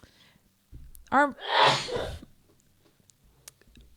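A single loud, close human sneeze bursts out in the middle of the clip, preceded by a brief voiced intake and followed by faint quiet sounds.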